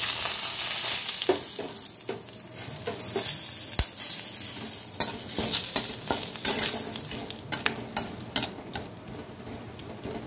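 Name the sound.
bay leaves and garam masala frying in ghee and oil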